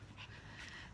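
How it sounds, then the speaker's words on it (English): Two dogs on a leash pant steadily and close by during a morning walk along a roadside in Florida, the quick breaths continuing through the short moment with no talking. "these two dogs that I'm walking"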